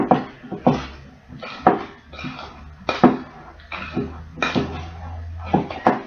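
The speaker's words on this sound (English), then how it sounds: "You are incorporating the sugar into the butter, and it's tricky." Butter and sugar are creamed together in a mixing bowl by hand, producing a series of close, uneven thumps and clacks of the utensil against the bowl about once a second, with occasional speech between strokes.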